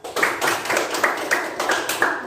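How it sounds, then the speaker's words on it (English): A small group of classmates applauding a student in an online primary-school English lesson, a steady patter of claps with periodic sharper accents, close and fairly loud, with no talking. "give applause for Rara"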